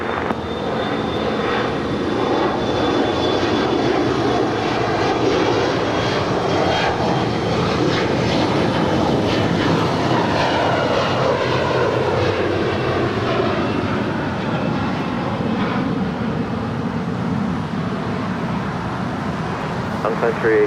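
A SkyWest jet rolls for takeoff from runway 25 right at LAX, its engine roar loud and continuous for the whole stretch with a steady broadband rumble and a rising whine, as heard from a nearby plane-spotting position.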